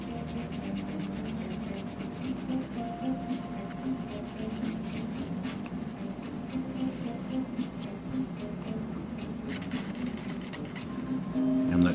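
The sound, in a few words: polishing metal of Castlevania NES cartridge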